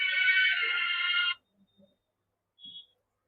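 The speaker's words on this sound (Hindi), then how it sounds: "अरे भाई फोन क्यों करते हैं?" A phone ringtone sounds loud and steady for just over a second and then stops. A brief faint electronic tone follows in otherwise near silence.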